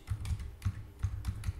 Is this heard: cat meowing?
no